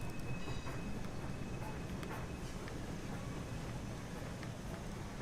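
A British Rail Class 158 diesel train in Train Sim World 6 rumbles and clatters as it pulls away, a low continuous drone with faint metallic squeals, no talking.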